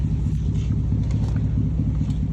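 Chevrolet Trail Boss pickup truck engine idling outdoors, a steady low rumbling drone with an even pulsing throb, close and continuous with no voices.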